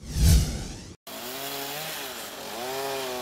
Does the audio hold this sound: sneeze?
no